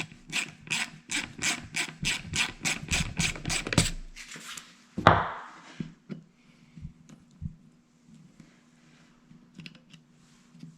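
A ratchet rapidly spins off bolts on a Chevy TBI throttle body unit, a fast burst of clicking for about four seconds followed by a sharp metallic clank and scattered quieter rattles and handling noises.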